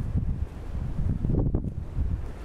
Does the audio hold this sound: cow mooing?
no